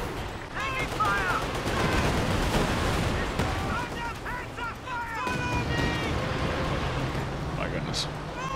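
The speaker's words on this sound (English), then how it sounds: "How many Katushas does that guy have? Do we know? Sounds like a lot." Dense barrage of Katyusha rocket artillery fire in a Company of Heroes 2 4v4 battle, a continuous rumbling wash of launches and blasts with whistling streaks over it, steady and loud throughout, with voices under the din.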